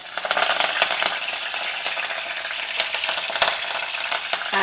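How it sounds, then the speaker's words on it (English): Slit green chillies and chopped okra stir frying in hot oil with dry red chilli, hing and curry leaves, a loud close crackling sizzle with sharp spatters and occasional scrapes of a spoon. "Now let the vegetables get stir fried in the oil."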